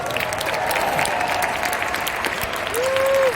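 An audience at a large global company convention claps steadily, dense applause filling the hall at close range, with a faint tonal whistle-like sound near the end.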